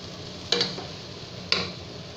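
Garam masala, pepper and fennel powders fry in oil for chicken curry, a soft steady sizzle broken by two sharp scraping stirs of a spoon against the pan.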